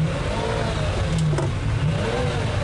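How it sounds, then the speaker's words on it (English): A V12 car engine runs with a steady, throaty drone that swells slightly, heard up close from inside the car with no talking. "to listen to that V12 in the back is very special"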